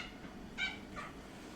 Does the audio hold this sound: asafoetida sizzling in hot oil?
no